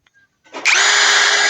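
A 16-volt cordless brushless drill spins up after a couple of faint clicks, rising into a loud, steady high-pitched whine that holds to the end, close by and alone.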